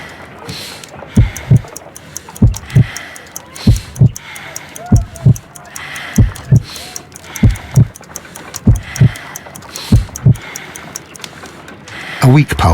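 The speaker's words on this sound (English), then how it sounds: "I need to concentrate and count the heartbeats." Heartbeat from the video game Sherlock Holmes: Crimes & Punishments, a slow, regular double-thump pulse repeating about a dozen times, close and prominent over a faint background hum.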